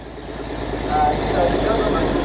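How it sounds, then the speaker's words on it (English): A Scammell lorry's engine and exhaust rumble, a deep, steady low throb that swells slightly as the truck draws near, loud and close, heard briefly. "Just listen to the sound on this exhaust."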